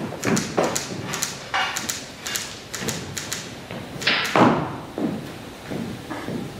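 Small homemade firecrackers go off in a rapid string of sharp, close pops and thuds, a dozen or so in irregular bursts.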